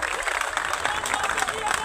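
An audience at a Dalit community gathering claps on request, a steady wash of many hands clapping throughout the brief moment, with crowd noise mixed in.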